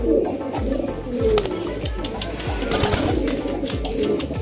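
Pigeons cooing nearby, several overlapping low throaty coos repeating in a steady rhythm among a flock, loud and close with faint background noise.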